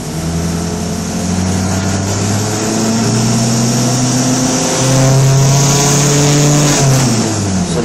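Washing machine motor powering a homemade electric car, running unloaded in neutral, a smooth electric whine climbing steadily in pitch as it accelerates, loud and close, then easing slightly near the end.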